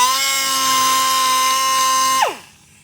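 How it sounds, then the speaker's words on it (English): A die grinder whines steadily at high speed while deburring bolt holes in custom motorcycle triple clamps, then spins down with a falling pitch once it is switched off. "First I've got to deburr the holes with this die grinder."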